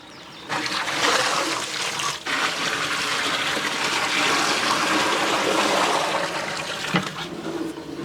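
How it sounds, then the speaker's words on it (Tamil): Water pouring steadily into a large biryani cooking pot outdoors, a continuous loud gushing splash that runs for several seconds with a brief break near the start. "தண்ணி ஊற்றியாச்சு."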